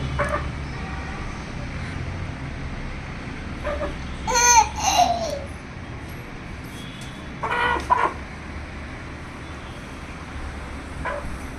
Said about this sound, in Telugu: చెల్లా నీ కొడుకు కోడిని తిప్పలు పెడుతుండు